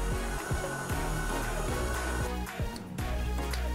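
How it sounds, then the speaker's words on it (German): Kitchen machine kneading bagel dough on a medium setting, a steady motor hum with rhythmic thumps from the dough hook, close and fairly quiet, no talking. "Unser Teig war jetzt 10 Minuten in der Maschine, ist schön gerührt worden."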